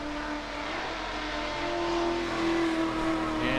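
A Formula Drift Pro Spec drift car runs its qualifying course in Salt Lake City in 2022. Its engine holds a loud, sustained, slightly rising drone that stays close and continuous, with no voices over it.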